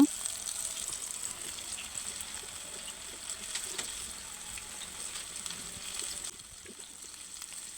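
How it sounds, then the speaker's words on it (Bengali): Snacks sizzling steadily in hot oil in a home kitchen, a dense, continuous crackling hiss at moderate level with faint bubbling pops, softening slightly near the end, with no voices. "আমি এখন তেলে দিয়ে দেব তেলটা অবশ্যই গরম হতে হবে"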